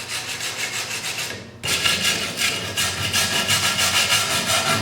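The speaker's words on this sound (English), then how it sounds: "now I'm gonna clean it as much as I can with the wire brush" A wire brush scrubbing rust off a part from a 1966 Triumph Spitfire MK2, close rapid back-and-forth rasping strokes in a steady rhythm, pausing briefly before resuming harder and louder, with no talk.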